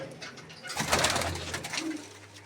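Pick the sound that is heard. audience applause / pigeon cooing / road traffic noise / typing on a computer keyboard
pigeon cooing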